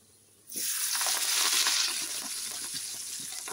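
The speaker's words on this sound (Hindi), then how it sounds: "ये हमने दाल के ऊपर डाल दिया तड़का" A loud burst of sizzling erupts suddenly as hot tempering oil is poured onto cooked chana dal, then settles into a steady, crackling fry that continues to the end.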